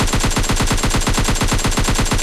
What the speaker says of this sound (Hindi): तो चलिए उसको पहले मारते हैं कुछ गोलियाँ